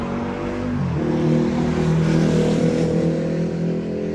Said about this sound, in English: I was waiting for the motorcycle to go by